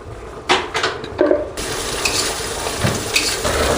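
Spices with green chilli, chilli powder and cumin fry in a pan for a bata fish curry, a loud steady sizzle with a few utensil scrapes and clinks near the start.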